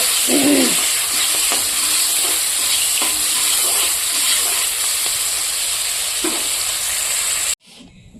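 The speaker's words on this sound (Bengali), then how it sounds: "বরবটিটাকে ভেজে নেব" Yardlong beans fry in a pan, a loud continuous sizzle and hiss with a few scraping stirs, close-up and steady before stopping suddenly near the end.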